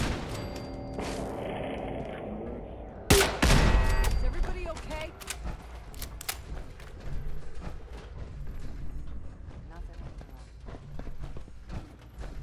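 Turrets fire in Fallout 4, sharp gunshot bursts and rapid clattering fire following a loud blast, with someone talking at times between the shots.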